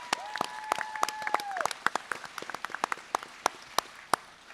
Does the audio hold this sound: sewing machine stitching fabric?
no